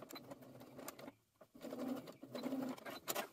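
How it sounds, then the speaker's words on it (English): A sewing machine stitching a backstitch on bias tape, its motor whirring in short runs that stop and restart, with a brief near-silent pause in the middle; close and moderately quiet. "So finish with a backstitch and take it out of the machine to sew those tails."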